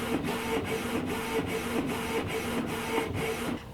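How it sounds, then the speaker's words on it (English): An inkjet printer runs a high-quality print job on matte vinyl sticker sheets, a steady mechanical whir broken by regular rhythmic clicks as the print head sweeps back and forth, close and fairly loud. "and it's going to the printer."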